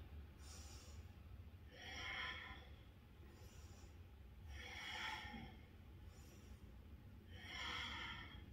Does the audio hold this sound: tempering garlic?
no